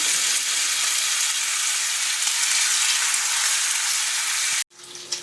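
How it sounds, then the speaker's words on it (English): Bacon frying in a hot cast iron skillet: a loud, dense, continuous sizzle close up that cuts off abruptly near the end, leaving a quieter kitchen background. "the cast iron does a wonderful job cooking bacon"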